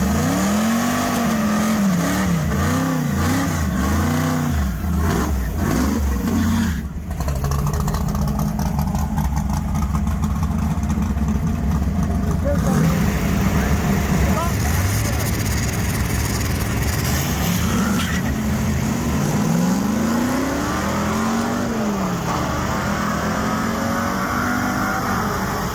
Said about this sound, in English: Second pass, hazed the tires all the way down the track.